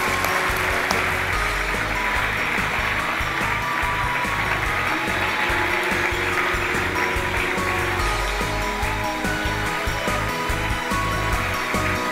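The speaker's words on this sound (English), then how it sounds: "Give yourselves a round of applause." An audience applauds at the WIBF Awards 2018 ceremony, with steady, dense clapping from a large crowd that sustains an even, loud roar throughout, and no voices stand out.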